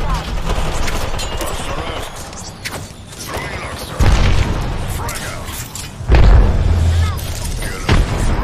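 Arc star and frag grenades explode in a video game shootout, several heavy booms landing a couple of seconds apart amid gunfire and clanking, with game voice lines talking throughout.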